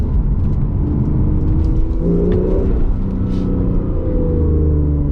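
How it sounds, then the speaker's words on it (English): A Porsche 911 Targa 4S of the 991.2 generation is heard from inside while driving, giving a steady, loud engine rumble with gentle tonal rises as the revs climb. "But it is still, misunderstandably, a 911 sound."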